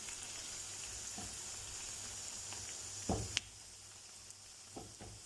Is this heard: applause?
no